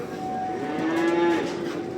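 A fattening calf at a cattle market in Barda lets out a single long, close moo that rises and holds steadily before fading, with faint market murmur around it.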